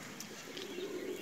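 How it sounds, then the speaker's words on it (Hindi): A Pakistani flying pigeon coos softly at close range, a low steady murmur rising through the second half, with faint chirps and a brief wing flutter or rustle near the end. "माशाल्लाह बहुत अच्छा परवाज़ी कबूतर है जी।"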